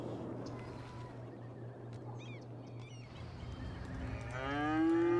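Cattle moo at a cattle shed in the city-building game Cities Skylines, with a long, loud low moo at the end, some faint bird calls earlier and a steady ambient hum throughout.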